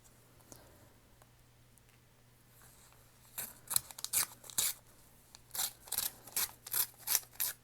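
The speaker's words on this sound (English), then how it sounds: "I'll tear right above this thing" Paper is torn by hand for a junk journal, a quiet stretch followed by a series of about ten sharp ripping bursts, each short and close, coming in quick rhythmic succession.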